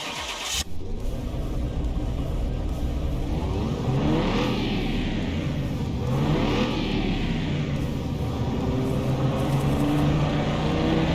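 A car engine in Car Mechanic Simulator 2021 runs on a dyno, roaring loudly and steadily with rising and falling revs across the whole stretch after a brief start.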